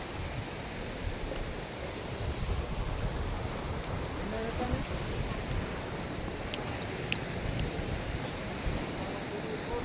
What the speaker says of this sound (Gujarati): તો દરિયો આવી ગયો બાયા તો પાણી જોવો તમે